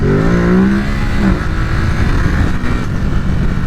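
A Ducati Supersport 950 motorcycle engine revs hard while the rider prepares to lift into a wheelie. The pitch climbs steeply, then holds as a loud, continuous engine roar for the rest of the clip, with no talking.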